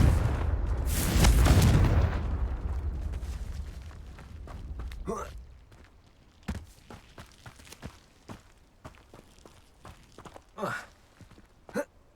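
A fiery blasting spell explodes in Hogwarts Legacy on PS5, a loud booming burst followed by rumbling decay, then scattered footsteps, debris and short vocal sounds.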